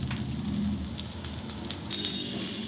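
Drumstick (moringa) pieces and potatoes fry steadily in a pan with oil, a continuous close sizzle and crackle with faint pops, no voices over it.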